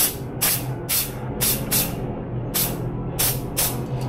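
AESUB Blue 3D scanning spray comes from an aerosol can in nine short hissing bursts, each under half a second, in a fairly even rhythm. The spray is loud and close, with no talking.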